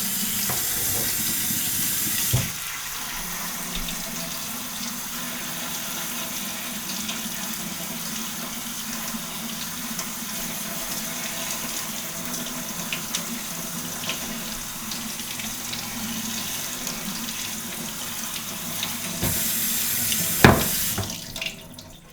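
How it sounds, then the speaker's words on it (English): Steady running water from a faucet splashing into a sink while rinsing bean sprouts in a SproutMaster, continuous and close, with a couple of brief clunks and a louder surge near the end. "Use either your faucet or the spray nozzle"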